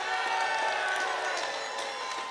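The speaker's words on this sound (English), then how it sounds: "Give that a cheer." A large crowd of some 5,000 people cheers and shouts at an outdoor Edinburgh rally for Scottish independence in 2021, a dense, steady roar of voices lasting throughout.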